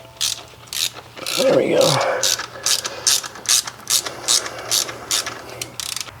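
A ratchet on a long extension loosens a bolt on the intake manifold of a 2009 Mazda 3: steady bursts of quick, close clicking pawl ticks, with a brief exclamation partway through.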